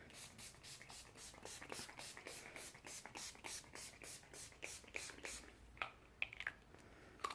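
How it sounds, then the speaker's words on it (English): A can of All-Nighter makeup setting spray is given a quick rattling shake, then sprayed in a rapid run of short, close hissing bursts, ending with a few soft taps. "So I'm just gonna give this a real quick shake and spray my"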